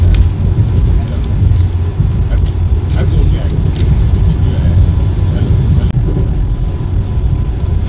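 The Patna–Howrah Vande Bharat Express runs at speed past Fatuha Junction, heard from inside as a loud, steady rumble with light rattling and jangling throughout.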